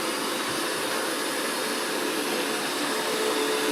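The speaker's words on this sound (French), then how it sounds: "c'est un robot aspirateur qui se cogne très peu ou vraiment très légèrement" An Ecovacs T90 Pro Omni robot vacuum cleaner runs with a steady, loud motor whir and airy suction hiss, unbroken and close, with no talking.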